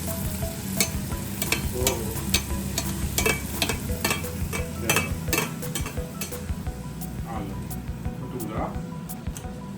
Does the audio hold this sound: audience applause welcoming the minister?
no